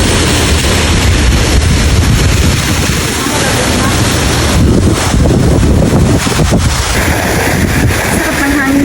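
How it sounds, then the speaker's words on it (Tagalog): Strong wind gusting across an open outdoor spot near the water, a loud continuous broadband roar on the microphone that surges and eases throughout, with a faint steady tone running underneath. "Sarap ng hangin dito."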